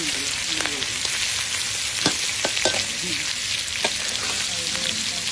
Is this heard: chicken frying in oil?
yes